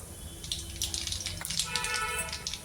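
Cumin and mustard seeds crackle in a small pan of hot oil while cooking misal pav, a steady close sizzle with scattered sharp pops and spits throughout.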